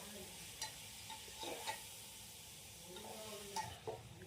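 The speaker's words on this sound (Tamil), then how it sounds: "இது கொஞ்சம் நல்லா வாசனை வர வரைக்கும் நல்லா வதக்கிட்டு தக்காளி வதங்கட்டும்." Tomatoes sauté with garam masala in a pan for mutton biryani, giving a quiet, faint sizzle with occasional soft scrapes and clinks from stirring.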